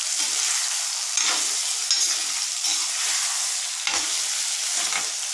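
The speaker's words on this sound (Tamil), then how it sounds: "இந்த தக்காளியும் போடுறேன். எல்லாம் நல்லா வதக்கிக்கலாம்." Chopped tomatoes sautéing in a pan of frying ingredients for karamani kara kulambu, a bright continuous sizzle broken by repeated scraping stirs of a spoon, close and with no talking.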